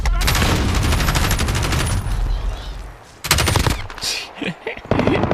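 Sustained automatic machine gun fire in a PC video game, loud and dense for about three seconds, then after a brief lull renewed bursts with scattered shots and game effects.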